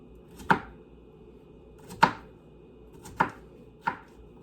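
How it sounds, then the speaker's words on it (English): Four sharp knife chops into food on a cutting board, spaced about a second apart, near and fairly faint, with no one talking. "I'm just trying to cut these carefully so they don't end up on the floor."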